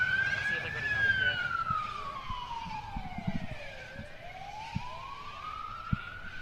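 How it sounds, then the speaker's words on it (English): Ambulance siren wailing near a city-centre cricket ground during a local match, its rising and falling tone sweeping past at moderate distance with faint bat and ground knocks beneath. "ambulance through the effects mics"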